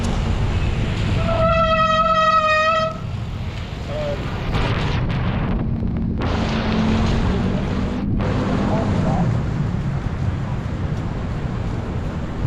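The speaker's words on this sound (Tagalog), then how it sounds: "Ingay ng rotor ko, nagbasa kasi." A wet bicycle disc brake rotor hisses and squeals in short tonal bursts while riding through a car-free road in Ayala, over steady wind and road rumble, with no talking.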